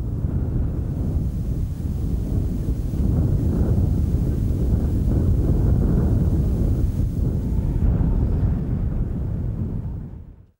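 Strong wind in the Gobi desert roars loudly and steadily, a continuous gusty rumble that buffets close by, then cuts off abruptly at the end.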